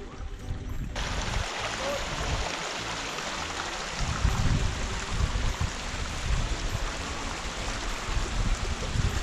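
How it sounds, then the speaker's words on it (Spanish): Mountain stream flowing through highland terrain, a steady close rush and gurgle of water continuing throughout with slight surges, loud and unbroken. "Este es el arroyo que me confundió a mí."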